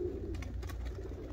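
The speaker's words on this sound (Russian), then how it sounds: "Голубь гоняет голубку на яйца" Domestic pigeons cooing in a loft during nesting season, a male driving his hen toward the nest; soft low coos repeat steadily against a constant low rumble of background noise, with no talking.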